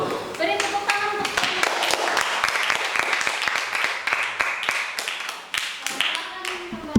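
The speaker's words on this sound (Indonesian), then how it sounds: "Beri tepuk tangan untuk" Students in a classroom clap for a group that has just presented a water-purification project, giving a lively burst of many hands that keeps up steadily, with children's voices chattering faintly underneath.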